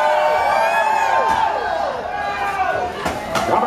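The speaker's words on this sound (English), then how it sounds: "Don't forget to cheer them on." A crowd cheers and whoops loudly at a lumberjack wood-chopping contest, with sharp axe strikes cracking through the noisy, continuous crowd sound at close range while voices chatter.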